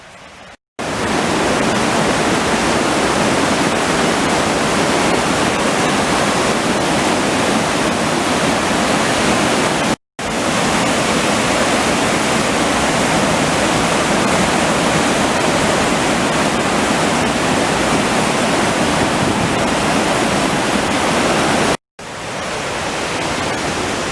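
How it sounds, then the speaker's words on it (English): Greenvale Falls on the Sutherland River roars steadily, a loud, close, continuous rush of falling water with no voices, briefly cut by a few short gaps. "But here we are at the Greenvale Falls."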